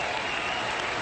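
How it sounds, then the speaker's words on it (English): Stadium crowd applauding at the Sydney Cricket Ground during a cricket match, a dense, steady wash of clapping from a large distant crowd that holds level throughout. "when the applause starts to die down, it dies away suddenly like that"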